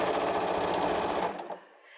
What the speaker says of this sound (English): Now I'm just going to finish up the sewing here.